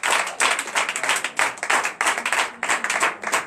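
A church congregation claps together in a steady, fast rhythm of close, bright hand claps that keep going without a break.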